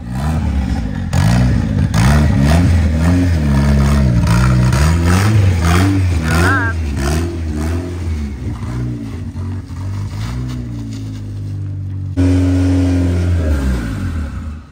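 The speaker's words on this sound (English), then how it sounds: "It's all together, let's put it on the dyno" A turbocharged race car engine is revved hard on a dyno. It gives loud, close, repeated rising and falling revs with clattery mechanical roar, then settles to a steadier drone.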